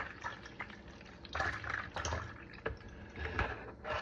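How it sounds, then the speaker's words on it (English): Green juice is poured into a container indoors, giving soft, uneven splashing and trickling bursts at close range, fairly quiet, with no talk. "I'm gonna pour this up into here, just like that."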